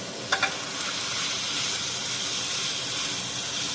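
Onions with salt frying in a pan over a high gas flame for a Punjabi spinach chicken curry, giving a steady close sizzle and hiss throughout, with two brief clinks early on.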